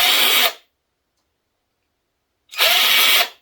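A cheap 12V cordless drill in drill mode whirs in two short bursts, its high, rough motor whine cutting off abruptly with silence between.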